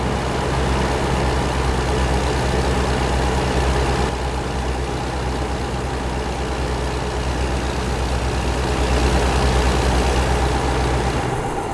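Steady low engine drone and road rumble from inside a truck cab on a highway drive from Oxnard to San Francisco, California, continuous and fairly loud with no talking.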